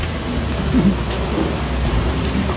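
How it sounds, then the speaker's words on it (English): Rain begins falling outdoors as a broad steady wash of noise with a low rumbling undertone, fairly loud and continuous. "Starts to rain, no?"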